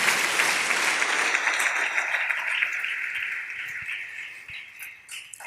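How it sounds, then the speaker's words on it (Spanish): A church congregation applauds on a Sunday morning, a dense wash of clapping that starts full and gradually thins and fades toward the end, with a faint voice underneath. "Denle ese aplauso al Rey en esta hermosa y linda mañana."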